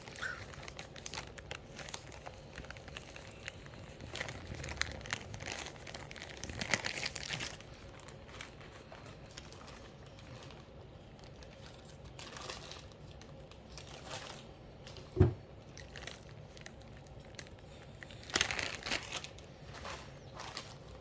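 Premium plastic bags from a board game box crinkle and rustle close by in scattered bursts, with one sharp crackle near the end and a louder flurry just after.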